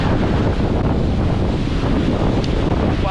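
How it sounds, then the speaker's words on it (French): Strong wind blows across a deserted Caribbean island shore, a loud continuous roar buffeting the microphone with faint surf underneath throughout. "Tant que j'ai le vent dans le dos."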